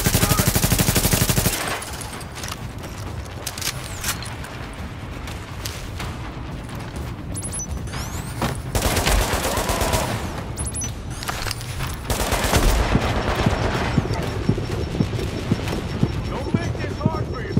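A deployed turret in The Division fires sustained rapid bursts through a loud, dense firefight, with repeated sharp shots and booms and voices speaking over the chaos.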